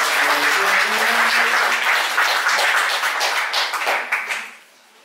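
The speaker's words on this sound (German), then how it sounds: "Machen Sie einen ganz großen Applaus für" A poetry slam audience in Stadthagen claps steadily in a dense, sustained burst of applause that tapers off and fades out at the end.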